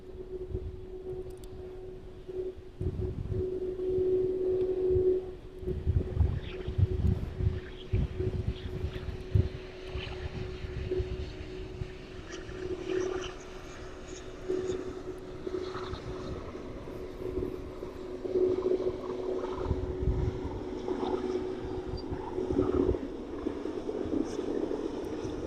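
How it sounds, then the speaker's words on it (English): A Boeing 777 arriving from Leipzig rolls along the runway at East Midlands Airport in the evening, a steady distant jet roar with a sustained whining tone, buffeted by wind noise throughout. "777 in from Leipzig this evening. Looks like this one is going to make very much use of the whole runway this evening."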